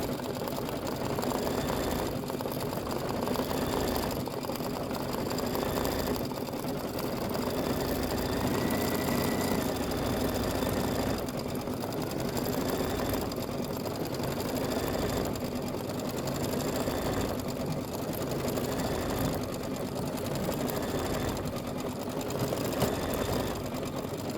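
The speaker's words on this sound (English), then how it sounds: "it just still stitch right over it" A quilting sewing machine stitches appliqué onto quilt fabric, a loud, continuous fast mechanical whir with a steady rhythmic needle chatter, close and unbroken, with no talk.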